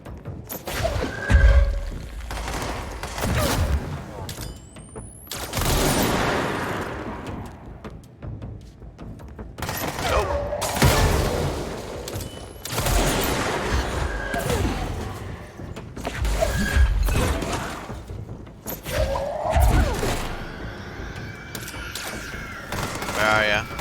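Sniper gunfire in the video game Control, with bursts of loud shots and clattering mechanical noise coming in waves across the clip, mixed with game effects and someone talking over it.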